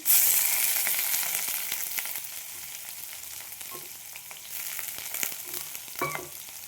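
Finely chopped onion frying in hot oil with cumin seeds in a pan, a steady close sizzle with small crackles and pops throughout, no voices.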